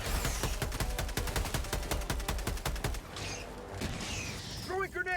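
Strafing run in Helldivers 2: a rapid, loud burst of machine-gun fire with evenly spaced shots for about three seconds, then mechanical whirring and creaks, with a short stretch of talk near the end.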